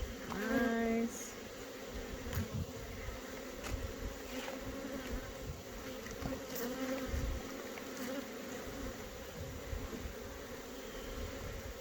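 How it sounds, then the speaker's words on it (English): Honeybees buzz steadily around an open beehive during a June inspection, a close, dense drone running throughout with a few brief louder passes. "there's a big old pile of bees here"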